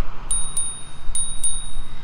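A hidden bell on a GoPowerBike GoCruiser 750 W folding cruiser e-bike rings in four bright, brief dings spaced through the clip, clear and close over a soft background hum.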